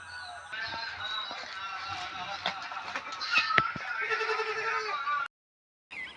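Domestic goats bleat repeatedly at close range in a quiet village setting beside a canal, their wavering calls overlapping and following one another for several seconds before a brief pause.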